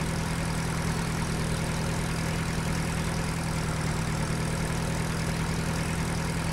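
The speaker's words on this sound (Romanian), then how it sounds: "După cum vedeți, ăsta este un tractor american." An American tractor engine idles in Farming Simulator 2013, a steady, unbroken low drone with a constant hum that holds evenly throughout, with no voices.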